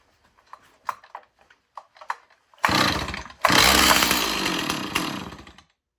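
A 2025 Stihl MS361 clone G366 chainsaw with a 20-inch bar, running on choke, gives a few sharp mechanical clicks, then its engine bursts into a loud, close roar, briefly cuts out and runs again for a couple of seconds.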